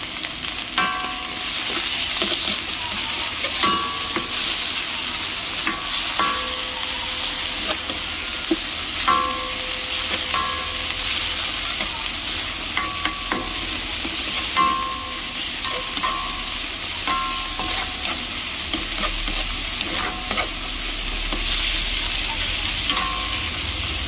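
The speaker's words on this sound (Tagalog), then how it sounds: "Then, gisa na po natin yung ating giniling." Ground meat sautéing in a pan for lomi, an even, steady sizzle running throughout with regular clinks and scrapes of a spatula stirring the meat, close and with no talking.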